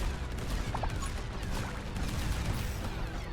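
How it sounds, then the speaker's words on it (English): Cannon fire and battle noise from a tower defense roguelite video game with orc invaders, a dense, continuous barrage of booms and crashes at steady loudness with no voices. "I'm gonna get a cannon in there"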